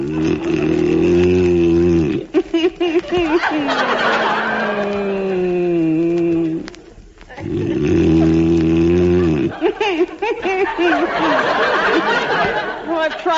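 A long, loud, harmonic snoring drone repeating in two drawn-out breaths, rough and buzzy with wavering overtones, no talking.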